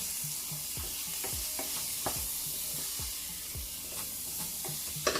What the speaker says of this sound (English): just give this a little stir